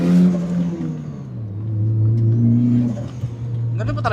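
A turbocharged Mazda FD car engine revs up and down from inside the cabin, its tone rising and falling smoothly over a few seconds, with a voice briefly heard at the start.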